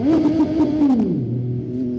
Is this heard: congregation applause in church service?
no